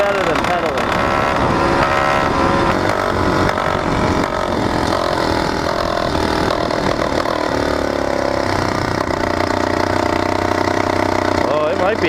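Small 80cc two-stroke engine on a motorized bicycle running under light throttle, a steady buzzing drone that stays loud and close throughout while the rider picks up speed, with a voice talking over it.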